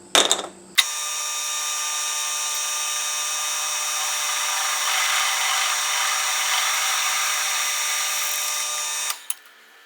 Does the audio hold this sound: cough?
no